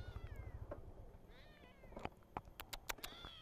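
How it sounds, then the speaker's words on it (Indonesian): A cat meows a few times up close, followed by several sharp clicks or taps near the end. "kucing kucing kok lucu sekali"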